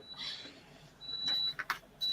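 A clothes iron gives a few high electronic beeps, faint and spaced apart, with soft clicks and a quiet room background.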